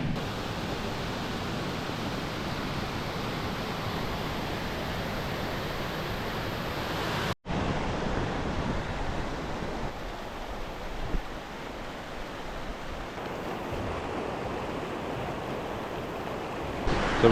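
Steady broadband rush of water from a waterfall near Pemberton, Western Australia, continuous and fairly loud, with a brief break partway through and no talk.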